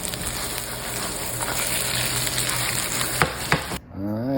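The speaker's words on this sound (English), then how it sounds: "some oil, frying them up with some onions." Pierogies fry with onions in butter and oil in a pan, giving a steady, dense sizzle with a few clatters of stirring. The sizzle cuts off abruptly near the end, just before a voice speaks.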